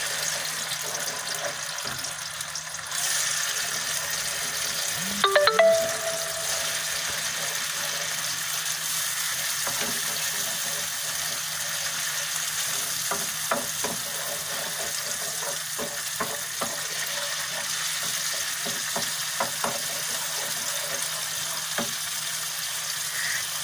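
Tomato and pepper paste sizzles and is stirred in a pot, with a steady frying hiss throughout and a few brief scraping knocks partway through.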